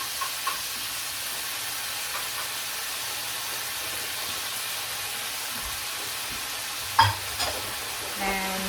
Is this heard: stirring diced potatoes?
yes